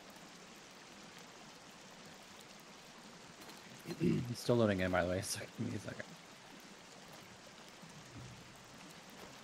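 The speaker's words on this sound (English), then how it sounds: "I hear rain, though. It sounds like it's raining." Rain in the survival video game Sons of the Forest makes a steady, soft hiss that runs throughout, while a person talks over it in the middle.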